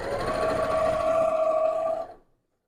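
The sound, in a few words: sewing machine sewing a corner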